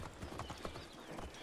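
Hooves of a horse in Assassin's Creed Origins clip-clop in a quick, even rhythm of soft thuds, fairly faint and steady across the moment.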